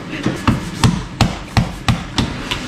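Crab claws are cracked by repeated hard blows, about eight heavy thuds in a steady rhythm, each a close, sharp knock with a brief crunch.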